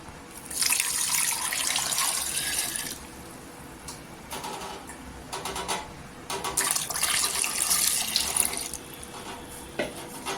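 Water running into a pressure cooker holding potatoes, a loud close rushing pour in two long bursts separated by a short pause, with drips and trickles between them.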